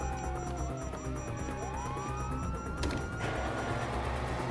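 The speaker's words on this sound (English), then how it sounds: "you hear that? Sirens!" Wailing police sirens in GTA V rise and fall over a busy background of engines and game noise, loud and continuous throughout.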